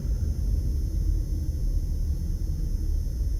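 Low, steady road-traffic rumble on the Las Vegas Strip near the Mirage, a continuous dull drone of engines and tyres with no distinct passing vehicles standing out.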